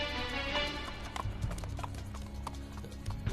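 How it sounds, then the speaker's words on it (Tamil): Horse hooves clip-clop in a steady rhythm close by, with a brief neigh-like sound, in a Tamil bedtime story series, with little else heard. "காவலனே, அந்த குதிரையில் சவாரி செய்து காட்டு."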